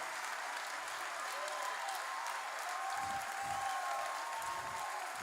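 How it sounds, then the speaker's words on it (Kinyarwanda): A church congregation applauds steadily in praise of God, a dense even wash of clapping throughout, with faint voices beneath it. "Ndagira ngo ukomere Imana amashyi."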